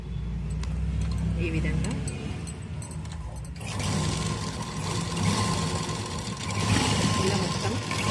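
Sewing machine stitching the neck of a school uniform, a steady mechanical whir that stops and restarts, with a person talking over it.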